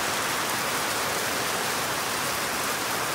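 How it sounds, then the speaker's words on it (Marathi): Steady, heavy rain pours down in a dense, continuous hiss with no breaks, close and loud throughout. "बघा, भरपूर पाऊस आहे डायरेक्ट जबरदस्त"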